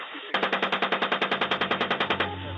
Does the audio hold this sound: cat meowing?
no